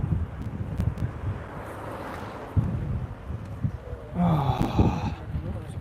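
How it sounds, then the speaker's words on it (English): Wind buffeting a microphone outdoors near a shopping mall in Tenerife, a loud rumbling low gusting that continues throughout, with breathy voice sounds and passing traffic mixed in. "Hopefully it's not too windy for you guys."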